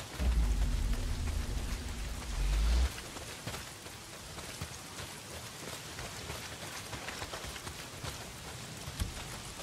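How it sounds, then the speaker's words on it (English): Heavy rain in the video game Days Gone pours as a dense, steady hiss of drops, with a deep rumbling drone under it for the first few seconds that then cuts out, leaving continuous rainfall. "Well, not if it's pissing down rain."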